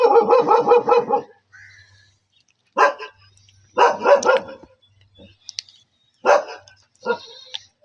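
A dog on a goat farm barks in several loud, close bursts, a quick volley first and then separated single and double barks with quiet gaps between them.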